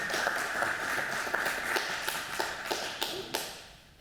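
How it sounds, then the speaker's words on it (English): Small audience at a breakfast event applauding for United Way CEO Susan Parks, a modest patter of hands with distinct individual claps standing out, dying away toward the end. "How about a round of applause for Sue Parks?"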